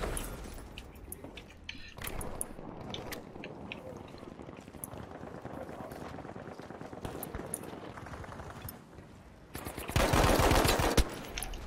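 Bren machine gun fire in Battlefield V, bursts of rapid shots scattered through dense battle noise, with a loud close blast near the end.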